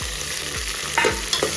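Mixed vegetables with peas and peanuts sautéed in a pot for a one-pot masala rice, a steady sizzle broken by three quick stirring scrapes spaced about half a second apart, close and with no voices.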